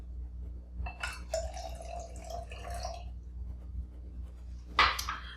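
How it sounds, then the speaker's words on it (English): Balsamic vinegar is poured into a jar that already holds oil for a vinaigrette dressing. A soft trickle of liquid splashes for a couple of seconds, and a brief clink follows. "I will be adding a quarter cup of balsamic vinegar."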